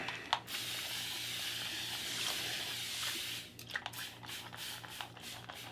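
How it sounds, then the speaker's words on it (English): Spray bottle misting water onto a head before shaving, soft close hissy spritzes with a few sharp bursts near the end, quiet overall. "spray bottle's running out of water."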